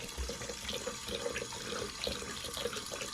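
A water tap runs into a sink being filled to wash clothes, pouring in a steady splashing gush with small bubbling and dripping accents, close and moderately loud.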